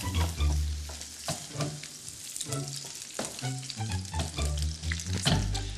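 A pork chop fries in a pan with butter, a continuous close sizzle broken by stirring and scraping sounds, loud and steady with no talk.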